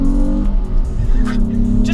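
A 2005 Ford Mondeo ST220 with a 225 bhp V6 petrol engine and manual gearbox pulls hard during an overtake, its loud, steady engine drone rising in pitch from inside the cabin while someone talks over it.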